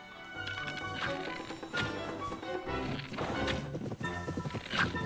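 A horse in The Legend of Zelda: Tears of the Kingdom, its hoofbeats and a few whinnies sounding moderately loud amid game music and combat thuds, with no talking over it.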